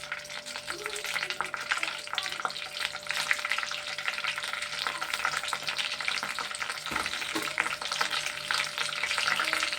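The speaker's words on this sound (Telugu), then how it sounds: "ఇవన్నీ ఎండుమిరగాయలు వేస్తున్నాను." Onions and dried red chillies fry in a pan with a steady, dense sizzle and crackle throughout, close and continuous, with occasional stirring scrapes and no talk.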